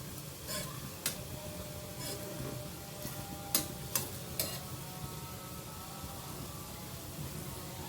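Potato slices coated for rava fry cooking in a pan, a soft steady sizzle with a few sharp spatula taps and clicks scattered across it, fairly quiet and without speech.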